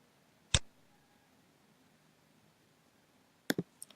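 Computer mouse clicks while finishing a quiz setup: one crisp isolated click near the start, then a quick cluster of three or four clicks toward the end, all close and sharp over near silence.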